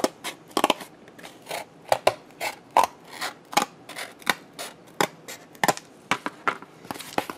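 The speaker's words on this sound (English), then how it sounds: "I'm going to just cut off a smidge off of this end." Scissors snipping through material for a hard sketchbook cover, a brisk run of sharp, close crisp cuts in uneven rhythm, more than a dozen snips in quick succession.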